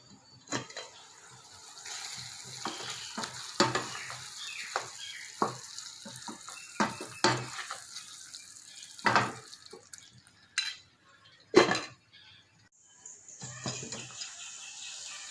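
Tomato thokku cooking over a low flame in a pan, with repeated scrapes and clinks of a spoon stirring against the metal over a soft background sizzle, in uneven bursts close by.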